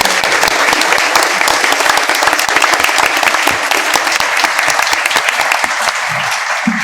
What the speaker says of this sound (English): So one more round of applause for our students.